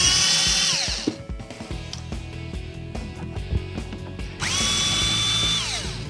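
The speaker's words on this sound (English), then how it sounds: "You start by undoing these screws." A power drill undoes screws on a Jeep TJ: a loud whirring burst at the start, a quieter stretch of clicks and rattles, then a second steady whir that winds down. Nobody speaks.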